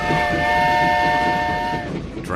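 A cartoon train from The Simpsons sounds a sustained whistle chord that rings loud and steady, then cuts off abruptly near the end over a rumbling rolling-stock background.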